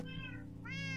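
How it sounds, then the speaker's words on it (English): A cat meows twice, close and clear, the two calls separated by a short pause over a steady low background hum. "I just hear meowing. That's my cat."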